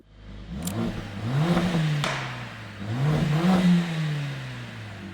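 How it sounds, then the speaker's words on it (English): A 4-cylinder Mercedes CLA 45 engine cranks and catches, then revs up twice in rising roars that settle back to idle, close and loud. "let's start it up and see what that 4-cylinder sounds like."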